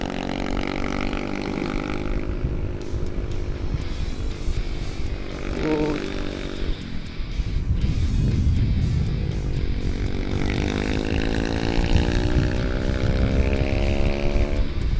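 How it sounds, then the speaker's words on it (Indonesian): A D-Tracker supermoto motorcycle exhaust growls while riding through corners, the engine note rising and falling as the throttle opens and eases, loud and close throughout. "Kalian dengerin aja suara knalpot itu supermoto sambil menikmati suasana miring-miring."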